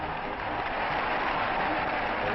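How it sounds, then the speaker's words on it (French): Spectators at a 1938 World Cup football match applauding France, a continuous dense wash of clapping and crowd noise, loud and unbroken, on a dull, band-limited old recording. "Les spectateurs applaudissent les Français dont la victoire ne fait déjà plus de doute."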